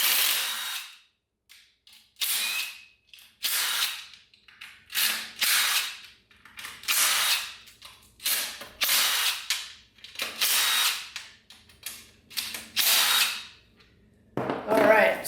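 A power tool zips bolts off a 4L80E transmission in a series of about a dozen short, loud ratcheting bursts with brief pauses between them, close to the microphone.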